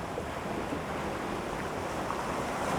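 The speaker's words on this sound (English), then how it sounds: "Here's a wave coming now. So when this wave comes in, this is going to wash through here" Ocean waves wash in over coastal sandstone rocks near Horse Head Rock and Camel Rock outside Sydney, a faint steady rushing surf with wind noise and no distinct break.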